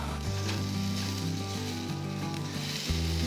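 Seasoned beef sizzles steadily on a yakiniku grill, a continuous close frying hiss with no talking.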